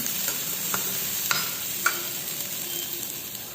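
Onions and tomatoes sizzling steadily in a pan while being sautéed for onion chutney, with a few light stirring clicks over the continuous frying hiss, no talking.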